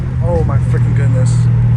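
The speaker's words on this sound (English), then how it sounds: "those downshifts are so nasty" A straight-piped Dodge Hellcat Redeye on a highway holds a loud, deep engine drone close by, with a few brief rises in pitch, while someone talks over it.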